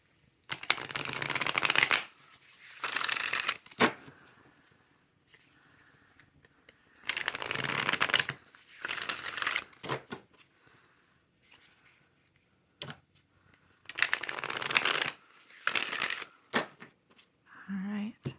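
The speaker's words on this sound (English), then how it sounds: "we go ahead and shuffle our oracle deck here" Several bursts of rapid riffling as a deck of oracle cards is shuffled up close, separated by quieter gaps with soft speech in between.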